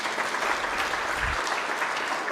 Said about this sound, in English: So could you please very loudly applaud?